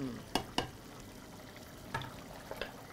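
Egg and potato curry cooking in a pan, with a steady low sizzle and bubble and a few sharp utensil taps against the pan.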